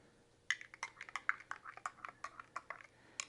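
A spoon stirs freshly pulled espresso from a Flair Pro 2 espresso maker in a cup, giving a quiet, uneven series of light clinks and taps against the sides.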